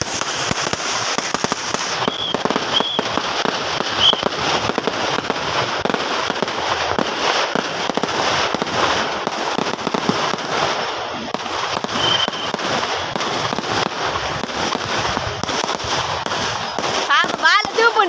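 Dense, continuous crackling and popping of firecrackers going off rapidly at a village fair, loud and close, with voices talking faintly underneath.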